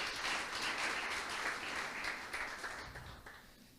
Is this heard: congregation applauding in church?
yes